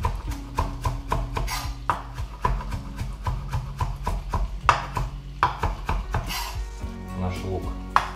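A knife slices green onions into long strips on a cutting board, giving a quick, steady run of close, crisp taps and thuds with a faint low hum underneath and no talking.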